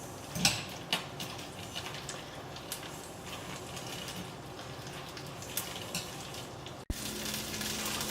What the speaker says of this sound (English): So I just basically like throw cheese in the pan and let it just crisp up essentially.